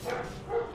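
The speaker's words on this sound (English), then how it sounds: "Apologies for the dog, as always." A dog barks in the background during a Dead Cells gaming session, a short burst of barking woven into game sound at moderate level with no talk over it.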